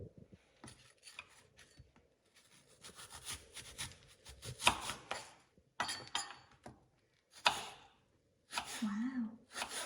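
A knife slicing an apple thinly on a board, with intermittent crisp cuts and scraping strokes in separate bursts, fairly quiet and close, with brief voice sounds in between.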